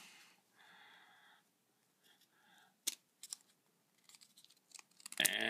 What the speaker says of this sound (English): we are going to cut the motor mount